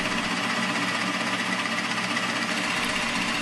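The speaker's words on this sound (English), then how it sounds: "we're going to drill a through hole to see how clean it is on the other side" A high carbon steel Forstner bit drills a through hole in a piece of wood backed by a scrap board, making a steady, loud, continuous whirring drone that holds without a break.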